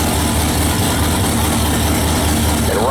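An 825 cubic inch Sonny's drag racing engine idles with a deep, loud, steady rumble on a hot day, heard continuously and close up.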